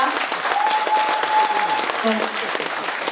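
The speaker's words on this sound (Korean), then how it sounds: "다시 한번 큰 박수 부탁드립니다" Sustained audience applause fills a hall at an agricultural research results conference in Gyeongbuk, with a steady dense clatter of many hands and a brief faint tone running beneath it.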